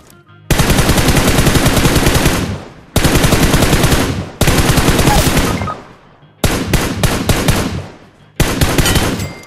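Repeated long bursts of loud automatic gunfire in PUBG, several sustained volleys separated by brief pauses, followed by a cluster of short sharp shots and one final burst.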